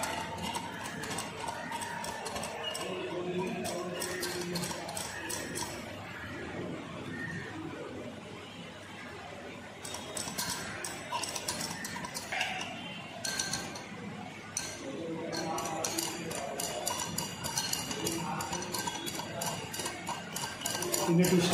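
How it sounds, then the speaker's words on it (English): A potassium oxalate solution stirred in laboratory glassware for preparing a copper oxalato complex: repeated light clinks and scraping ticks of a rod against glass in irregular bursts, with a voice at times. "With constant stirring."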